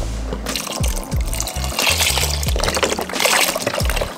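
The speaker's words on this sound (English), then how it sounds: "I'm gonna go ahead and add some veggie broth" Veggie broth pouring into a pot of pasta and potatoes, a steady liquid splash with bubbling glugs and dribbles that continue for several seconds.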